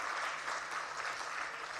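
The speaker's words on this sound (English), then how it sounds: "Thank you for that clap, even bigger." Audience applause at an award ceremony for scientists and scholars, a steady dense wash of clapping filling the room without a break, with no voices over it.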